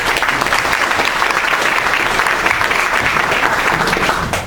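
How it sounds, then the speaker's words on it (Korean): A church congregation bursts into loud, sustained applause, dense clapping filling the room evenly from start to finish and tapering slightly at the end. "복을 주신 하나님께 우리 감사의 박수를 드리고"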